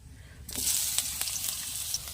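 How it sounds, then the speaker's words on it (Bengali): Soybean chunks hitting hot oil in a wok, a sudden bright sizzle that jumps up and holds steady with small crackles, fairly faint and close. "প্রথমে কড়াই একটু তেল দিয়ে নেব নিয়ে সবিনটা ভেজে নেব"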